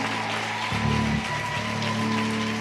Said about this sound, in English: Let's all clap our hands.